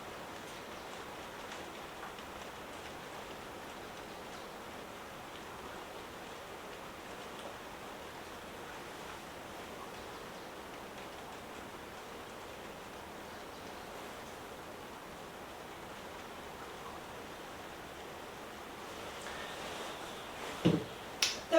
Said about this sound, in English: it is still raining lightly